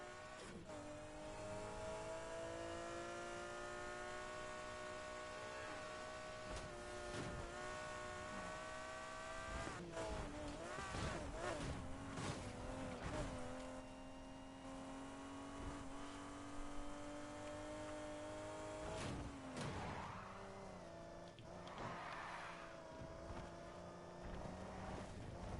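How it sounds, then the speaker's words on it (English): A 1993 McLaren F1 in the racing game Need for Speed Heat, its engine note droning and climbing through gears with repeated sharp shifts and revving surges, continuous and fairly close. "Well, there she is. The beautiful McLaren F1."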